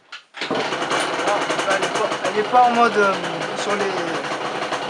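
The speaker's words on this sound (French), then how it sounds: "Regardez, on vient démarrer la moto." A motorcycle engine starts and settles into a steady, busy idle, running continuously up close with a person talking over it.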